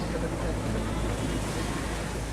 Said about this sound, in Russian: Ветер усиливается, волна усиливается, и лодку начинает бросать,